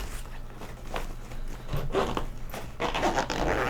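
A zipper on a backpack pocket is pulled in several short, scratchy bursts, close and fairly loud, with a steady low hum underneath.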